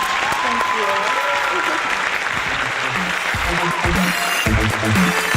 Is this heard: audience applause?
yes